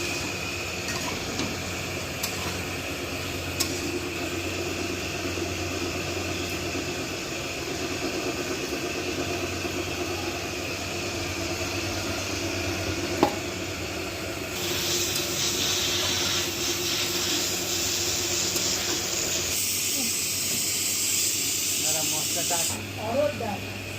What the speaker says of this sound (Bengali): এখন সয়াবিন কষানো হচ্ছে।